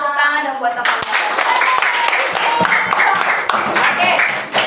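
Students in a classroom break into a round of hand clapping for their classmates. The clapping is dense and lively right after a teacher's voice, with some talk mixed in.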